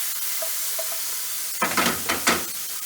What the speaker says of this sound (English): just use that heat you've got to carry on cooking those mushrooms and continue to brown